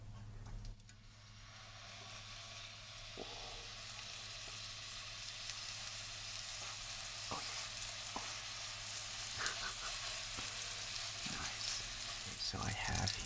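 Beef burger patties fry in a hot pan with olive oil, a steady hiss that slowly grows louder, with scattered faint pops and ticks.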